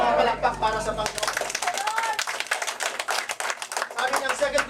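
A church congregation breaks into a sustained round of applause, dense, steady clapping filling the room for several seconds, with a voice talking over it.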